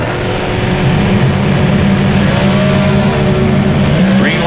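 Drag racing vehicles at the Ford Performance NHRA Nationals in Las Vegas, with a truck among the competitors, roar loudly and continuously as engines launch and rev, the pitch rising toward the end.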